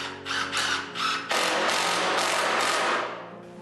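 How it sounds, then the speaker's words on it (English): Cordless drill driving screws at an angle into wood supports for plywood garage shelving: three short whirring bursts, then a longer continuous high-pitched drive that winds down, loud and close. "so just toenailing some screws in"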